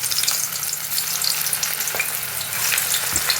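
Batter dropped piece by piece into hot oil in a pan, sizzling and crackling steadily and close, with a few small pops as pieces go in.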